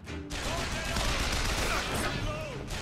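Gunfire from a shotgun in the first-person shooter BioShock Infinite, a loud, dense barrage of blasts running continuously over chaotic combat noise after a brief quiet start.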